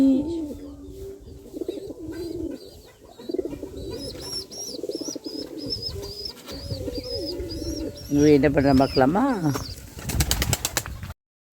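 Pigeons with an adult guarding a feathering chick, giving soft repeated cooing close by, then a burst of wing flapping and scuffling near the end, with someone talking briefly over them.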